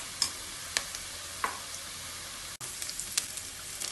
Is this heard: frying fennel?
yes